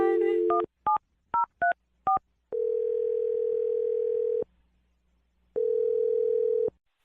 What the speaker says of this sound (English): We're going to dial the phone number right now for you.